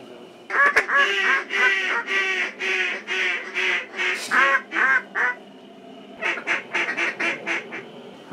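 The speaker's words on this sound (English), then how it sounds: "What kind of birds? Ducks." A group of ducks on a duck hunt quack loudly and close by in rapid repeated bursts, one pause breaking two busy runs of calls.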